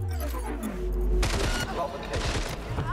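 Gunfire erupts in Cyberpunk 2077, a rapid series of sharp, loud shots in quick bursts, close and punchy, layered over lingering game ambience.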